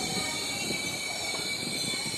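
An express train hauled by a WAP-7 electric locomotive runs past in a dense, continuous roar of wheels on rails with a high metallic squeal over it, loud and close.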